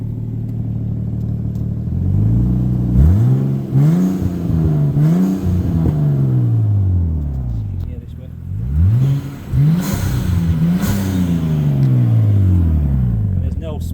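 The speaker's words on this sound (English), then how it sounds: "So I'm going to blip the engine." A 1999 Nissan Skyline R34 GTT's 2.5-litre single-turbo engine is blipped twice from idle, each rev rising sharply and falling back, loud and close, with someone speaking briefly between them.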